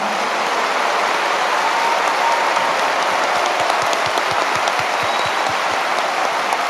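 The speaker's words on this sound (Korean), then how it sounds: "모든 선교사님들 다시 한번 큰 박수로 환영해 주시기 바랍니다" A large church congregation applauds to welcome missionaries at the 50th Full Gospel World Mission conference. The clapping is loud and steady throughout, and a few soft rhythmic thumps join it near the end.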